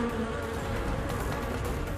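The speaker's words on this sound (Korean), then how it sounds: "실제로 촬영을 하고 있는 이 와중에도 눈앞에서 버젓이 꿀벌을 납치해 갑니다" Hornets buzzing steadily at a beekeeping apiary while they snatch honeybees, a dense, continuous insect drone filling the air, loud and close with no pauses.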